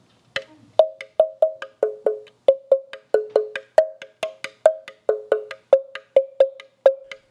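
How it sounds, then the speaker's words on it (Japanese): A kanpompon, an original wooden percussion instrument for children built from local timber at a workshop in Nishiawakura, Okayama, sounds a steady series of about twenty clear, resonant knocks, each ringing briefly before fading, close and alone with no talk. "これねカンポンポンという名前の楽器の音なんですね"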